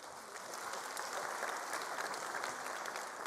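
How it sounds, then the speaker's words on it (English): An audience at a matric results announcement by the Department of Basic Education claps in sustained, steady applause that holds at an even level throughout. "If we can give a round of applause once again."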